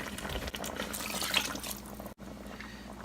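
Water pours briefly from a container into a kitchen pot already holding heavy cream and garlic, a soft trickling splash close by that cuts off abruptly near the end.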